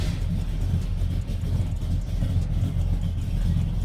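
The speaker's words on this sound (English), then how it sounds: "So Matthias, please start the car, and this is with the cutoffs closed." A 1966 Chevelle V8 idling with its electric exhaust cutouts closed: a steady, muffled low rumble that stays loud and even throughout, close up and without talking.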